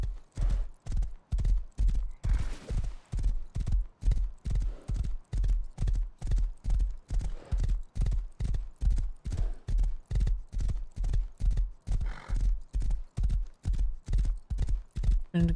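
Horse hooves clip-clop in a steady, even rhythm throughout, close and clear, as a horse is ridden along a road in a video game.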